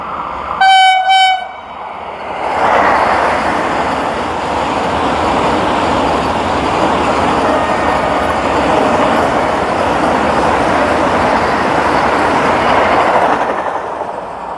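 A train on the Delhi–Katra route sounds a loud multi-tone horn blast, then rushes past close by on a railway track beside a dragon fruit farm, a sustained rumbling roar with faint wheel clatter that fades near the end.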